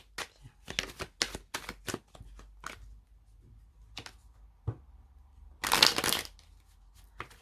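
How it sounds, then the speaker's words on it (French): Oracle cards being shuffled by hand at a tabletop reading, a series of sharp crisp riffles and slaps in quick bursts, then quieter pauses and one longer, louder flurry of shuffling near the end, with no talking. "Et on va prendre 4 cartes."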